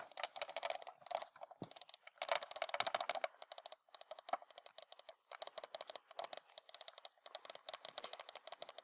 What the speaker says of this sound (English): Let's hear my clicking.